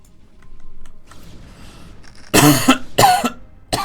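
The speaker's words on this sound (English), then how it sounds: "now when I cough, it burns" Two harsh coughs close to the mic, the second following soon after the first, coming out of quiet after some soft clicking in the background.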